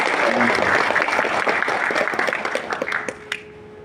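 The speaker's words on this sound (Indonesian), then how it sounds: "Tepuk tangan buat Pak Horas, perwakilan Kemendagri kita." Applause for a Ministry of Home Affairs representative at a national coordination meeting, a dense wash of clapping that thins and fades toward the end, with a faint voice over it.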